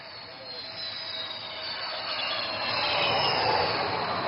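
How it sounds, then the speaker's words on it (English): A twin-engine fighter jet weighing over 38 tons lands on a highway, its steady, loud, hissing engine roar swelling slightly as it nears, with no voices. "this twin-engine fighter demands nothing but absolute precision while landing on this highway"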